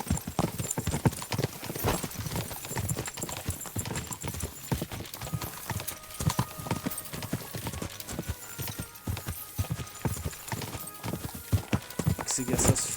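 Horse hooves clip-clop at a steady walking rhythm across a path in the medieval game Kingdom Come Deliverance 2, with the hoofbeats close and clear and some voices under them.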